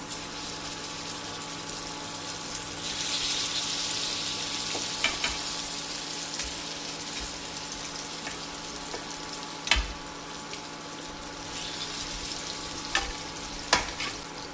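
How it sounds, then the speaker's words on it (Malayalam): Idli egg pieces shallow-frying in coconut oil in a pan give a steady crackling sizzle, with a few sharp clinks and taps as pieces are placed and moved. "ഇത് ഷാലോ ഫ്രൈ ആണ്"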